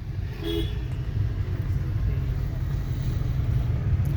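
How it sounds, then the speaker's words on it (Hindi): A single short car horn toot near the start, then a steady low engine rumble from inside a moving Mahindra XUV300. "हॉर्न दो"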